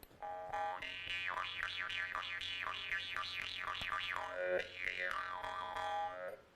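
A Jew's harp (khomus) from a collection, given as a gift from abroad, played up close with a twanging drone and rapidly shifting, wavering overtones in a rhythmic pattern, briefly pausing before resuming.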